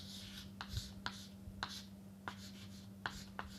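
Chalk or pen writing out a vector cross product during a maths lecture, soft scratchy strokes and taps spaced irregularly over a low steady hum, quiet and close.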